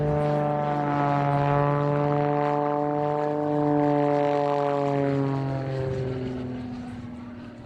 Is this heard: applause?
no